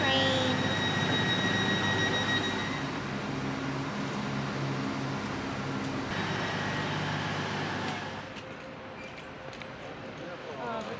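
A train pulls out of Edinburgh Waverley station with a steady rumble and hum that fades toward the end, heard from the platform over station ambience.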